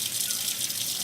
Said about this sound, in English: Once you've done all that, then rinse your hands off.